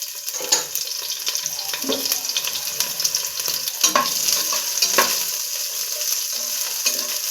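About a cup of onions fries in oil for a field-bean sambar, giving a continuous close sizzle with scraping stir strokes and occasional louder crackles.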